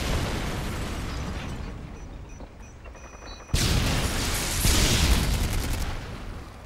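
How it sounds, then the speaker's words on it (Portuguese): A flashbang grenade thrown in a shooter game's Domination match goes off as a sudden loud burst partway through, followed by a sustained bright roar and ringing hiss, with a second swell of blast noise a moment later. "Lançando uma granada de luz."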